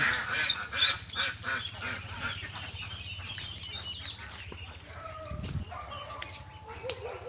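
Ducks and chickens, including Rhode Island Reds and Black Australorps, fill a backyard poultry yard with overlapping quacks and clucks at moderate distance, plus a brief burst of wing flapping partway through.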